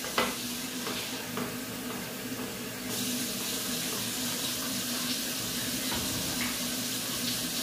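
Water pours steadily from a tap into a pot of stuffed aubergines for Gaziantep-style dolma, a constant close rushing splash that grows brighter and fuller partway through.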